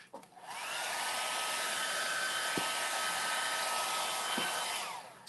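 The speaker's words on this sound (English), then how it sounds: "I'm going to dry this with a hairdryer just a little bit" A hairdryer blows on freshly applied Venetian plaster, starting with a click and running as a loud, steady, close whoosh for several seconds before cutting off, with no voices.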